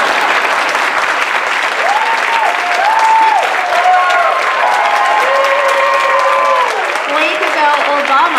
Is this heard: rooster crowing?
no